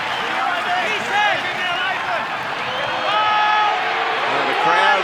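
Rugby league crowd in a stadium at a Cronulla-Sutherland Sharks versus Penrith Panthers NRL match, roaring and yelling for a penalty: a loud, steady wash of massed shouts and whistles that swells slightly, with commentary over it.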